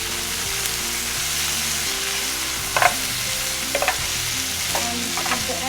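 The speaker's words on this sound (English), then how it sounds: "Give it a stir." Vegetables sizzle steadily in a hot pan seasoned with red pepper flakes and Italian seasoning, with a few brief scraping stirs of a utensil cutting through the continuous frying hiss.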